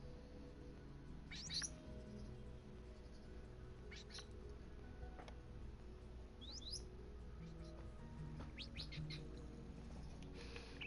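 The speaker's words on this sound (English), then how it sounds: "I don't know why all these parrots are here." Parrots in the game Minecraft give short, sharp chirps and tweets that come and go in brief scattered bursts. They sit over a steady low background hum, fairly faint and not too far off.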